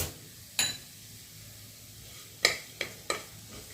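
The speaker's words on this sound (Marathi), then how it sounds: "मी 1 चमचा बडीशोप भाजून घेते." A spoonful of fennel seeds dry-roasting in a pan, with dates pushed to the side, is stirred in a faint quiet hush broken by four sharp spatula scrapes and taps against the pan.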